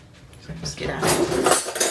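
A metal spoon clinks and scrapes against a blender jar while scooping freshly blended icing sugar made from white sugar, a few close, bright rattling knocks building over a couple of seconds.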